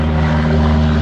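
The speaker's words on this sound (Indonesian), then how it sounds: "banyak suara pesawat" A propeller airplane passes over a golf course, its engine a steady, loud drone with strong low hum throughout, heard up close and alone.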